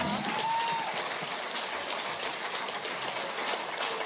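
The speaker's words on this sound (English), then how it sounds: "Round of applause for a very good round." An audience at a music quiz applauds after a round, a soft, even patter of clapping that sounds fairly distant and continues steadily without voices over it.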